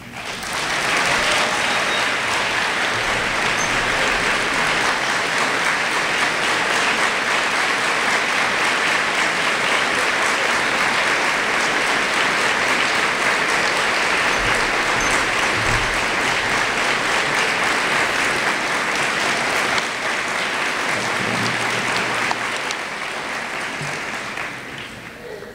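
An audience applauding to welcome a speaker at a bicentenary gathering for Bahá’u’lláh, a loud, sustained round of clapping from many hands that holds steady for about 24 seconds before tapering slightly.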